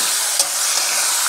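Mutton marinated in chili, turmeric and yogurt hits a hot pan on a boat and bursts into a loud, dense, continuous sizzle, with one brief scrape near the start.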